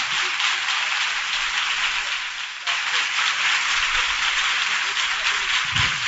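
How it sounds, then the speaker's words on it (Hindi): A youth worship congregation in Nagpur claps loudly, a continuous bright patter of many hands that dips briefly midway then resumes, with a voice speaking low underneath. "एक बार और ताली बजाना, जो खुश है ताली बजाइए जोर से"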